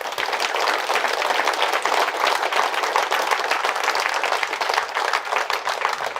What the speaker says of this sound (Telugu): అటువంటి ఈ శ్వాస గట్టిగా చప్పట్లు కొడదాం.